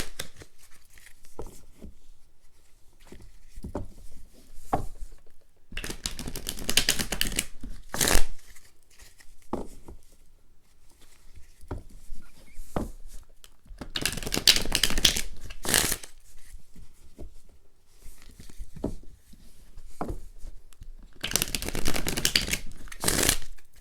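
A deck of tarot cards is shuffled in several rapid riffling bursts, crisp and close, separated by quieter pauses with light card handling and no talk.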